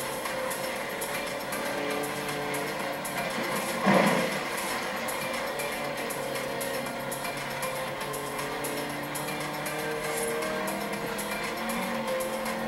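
An old rally car, a Beetle, driven in Forza Horizon 3 with a steady engine drone and a brief loud tire squeal or bump early on.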